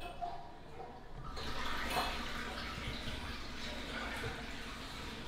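A bidet spraying water in a house bathroom, a faint, steady hiss of water that starts abruptly and keeps running at a low, even level.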